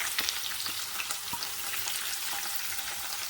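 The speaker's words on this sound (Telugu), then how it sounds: "తర్వాత ఇందులోకి మనం సన్నగా కట్ చేసి పెట్టుకున్న ఉల్లిపాయ ముక్కలు వేసుకోవాలి." Chopped onions sizzle in oil with mustard seeds, cumin and dried red chilies, a soft but steady frying hiss broken by small pops and faint stirring.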